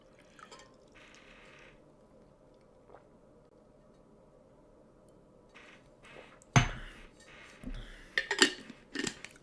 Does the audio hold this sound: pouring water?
yes